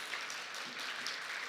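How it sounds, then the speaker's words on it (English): Faint applause from a crowd, a steady patter of many hands clapping at a distance. "give them a round of applause."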